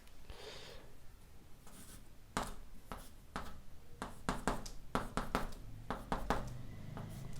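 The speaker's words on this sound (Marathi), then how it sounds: "तर काय मिळालं बघा, तर ते इथे लिहितो मी" A pen scratches out chemistry notes by hand in quick, close strokes, starting sparse and soft and then building into a busier run of short scribbles against a faint background hiss.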